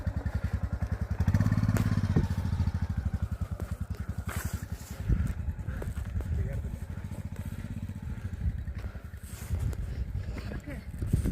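Motorcycles on a snowy mountain road in Arunachal Pradesh give a continuous, close, rhythmic engine chugging that swells briefly early on and runs unbroken to the end.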